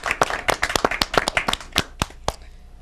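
A studio audience at a live debate show gives a round of applause for the first debater, sharp individual claps ringing out in an uneven, thinning patter that tails off into quiet.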